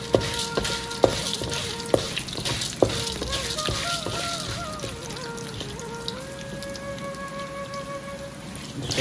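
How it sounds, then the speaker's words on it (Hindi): Chana dal and urad dal fry in a pan while making aloo bonda, giving a soft crackling sizzle with several sharp clicks and taps early on, along with some faint tonal background sounds, and no voice. "फिर हम चना दाल और उड़द का दाल डालेंगे"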